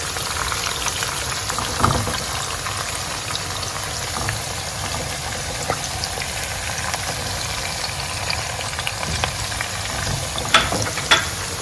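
Salted tilapia frying in oil gives a steady, dense sizzle throughout, close-up, with occasional sharper pops and crackles.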